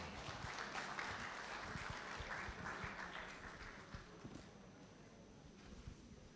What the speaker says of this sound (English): Please give the Permanent Secretary another round of applause